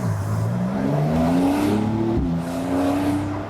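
A Porsche 911 4S Cabriolet engine revs and accelerates, its pitch climbing steadily through a gear, dropping at a shift, then rising again, loud and close with no talking.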